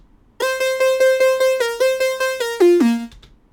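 Xfer Serum synth lead with a dimension effect giving a small-room feel plays a loud, bright run of about a dozen evenly repeated notes, holding one pitch before stepping down and gliding lower at the end.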